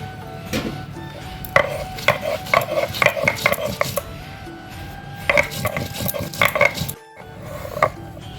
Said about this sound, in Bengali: এখন বেটে নিব শুকনো লঙ্কা